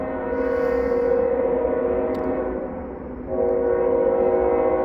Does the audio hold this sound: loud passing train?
yes